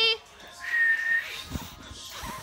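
A thin, breathy whistle attempt holds one wavering tone for under a second, faint and close, followed by soft rustling.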